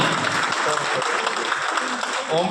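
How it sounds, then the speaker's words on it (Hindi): Loud applause breaks out at a Haryana working journalists' union award ceremony in Gohana, a dense crowd of clapping holding steady throughout with a voice faintly mixed in. "वो जोरदार तालियां"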